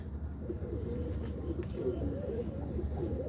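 Pigeon cooing, soft repeated low coos sounding steadily and close against a murmuring background, with faint chirps from other birds now and then.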